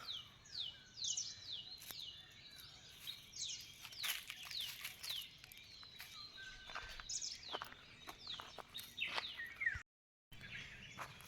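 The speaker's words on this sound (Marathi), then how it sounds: "पक्ष्यापेक्षांचा आवाज ना त्यामुळे आणखीच भारी वाटता" Several birds chirp and tweet in quick, scattered calls at a moderate distance over a quiet outdoor background on a village morning.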